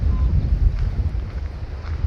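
Strong wind gusts buffet a parked Tioga RV in freezing weather, a steady low roar of blustery noise with uneven surges hitting the microphone up close, no voices.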